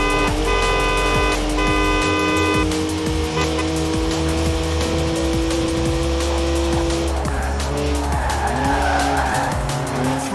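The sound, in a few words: BMW 1M car engine in video game Forza Horizon 4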